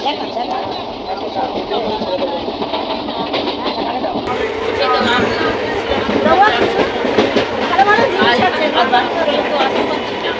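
Rumbling, rattling interior of a moving train, steady throughout, with chatter from passengers talking nearby.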